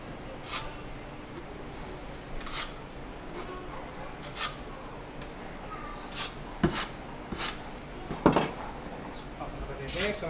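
A notched trowel spreads tile adhesive across a wall in repeated scraping strokes, fairly quiet and close, with short rasping sweeps recurring every second or two.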